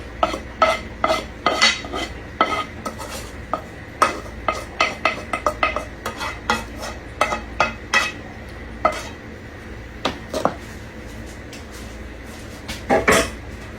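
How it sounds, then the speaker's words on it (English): A spoon works through cornbread dressing made with onion, broccoli and celery in a bowl, producing close, rhythmic clinks and scrapes against the dish in quick bursts with short pauses. "And we're just gonna mix."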